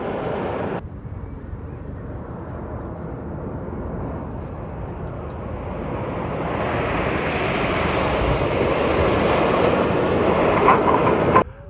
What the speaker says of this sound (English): As the team rolls to the left on the right hand side, uppermost on the outside is Red 4, that's Flight Lieutenant Ollie Suckling.